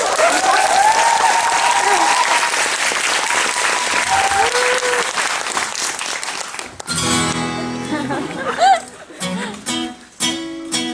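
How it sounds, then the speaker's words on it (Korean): A theater audience at a musical's special curtain call claps loudly and steadily for several seconds, with whoops mixed in. The clapping then thins out as a voice and loud music cut in. "박수 한번 주시면"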